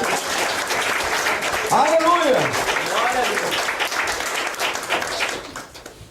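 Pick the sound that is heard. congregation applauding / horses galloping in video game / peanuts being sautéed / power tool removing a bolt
congregation applauding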